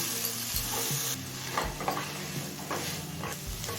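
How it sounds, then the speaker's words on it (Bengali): Mixed vegetables with peas frying in a pan for oats pulao, a continuous sizzle broken by irregular scraping and clinking as a spatula stirs them, close and moderately loud, no talking. "এবার এই সমস্ত সবজি সিদ্ধ হয়ে আসা পর্যন্ত ভেজে নেব"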